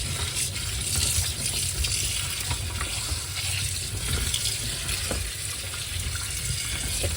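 Water runs steadily from a tap while a water tank is washed, a constant splashing hiss at moderate level with no talk.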